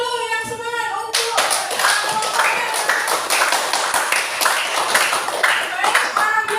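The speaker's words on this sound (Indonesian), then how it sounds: "Beri tepuk tangan dulu yang semangat untuk" After a brief musical tone, a classroom group bursts into brisk, rhythmic hand clapping, close and energetic, continuing steadily to the end with some voices in the background.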